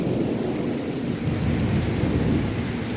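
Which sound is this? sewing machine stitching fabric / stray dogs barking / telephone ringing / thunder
thunder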